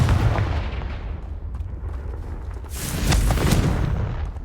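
The Confringo spell explodes in the game Hogwarts Legacy, giving a loud, sustained rumbling blast. A second burst swells up partway through, with no voices.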